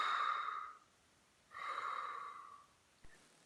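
A puppeteer breathes audibly to bring a puppet to life: two long, soft breaths close to the mic, separated by a pause, with a faint click near the end.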